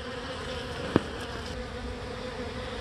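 Honeybees buzz steadily around a hive in January, a soft, continuous drone at low level with one brief sharp knock partway through; no one speaks.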